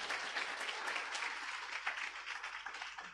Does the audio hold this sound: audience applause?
yes